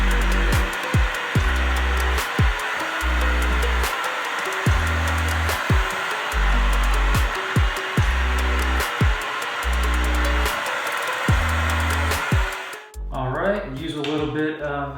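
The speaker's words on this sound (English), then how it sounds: "I'm using this tiny little, what is it, Conair blow dryer." A small Conair travel blow dryer blows with a steady, airy whoosh and low pulsing tones beneath it, then shuts off and a person starts speaking.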